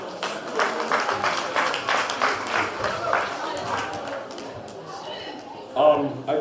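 A gathering at a Christian event claps to welcome its chairman. Moderately close, irregular hand claps come in a loose rhythm and fade toward the end, with a brief louder burst near the close.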